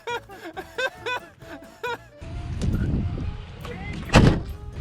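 The door of a travel trailer that has fallen open is pushed shut outdoors, a thump and rattle after a stretch of speech, followed by shuffling movement and more talking.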